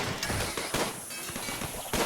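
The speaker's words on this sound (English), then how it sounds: "Here comes the explosion." Insect hives blow up in the RimWorld video game, a burst of loud crackling, popping game explosions with a few sharp repeated blasts over about two seconds, harsh and noisy with no talking.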